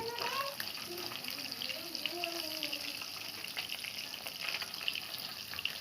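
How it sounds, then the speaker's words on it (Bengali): Rupchanda (pomfret) fish fries in hot oil in a village kitchen, a quiet, steady sizzle and crackle with soft bubbling that holds evenly throughout, with faint talk in the background. "মাছটা তেলে ছেড়ে দিলাম, লাল লাল করে ভেজে নেব।"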